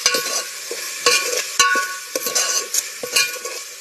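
Masala of ground garlic and coriander paste, coconut and onion is stirred in a cooking pot for a traditional dal amti, with repeated scraping strokes over a steady close sizzle.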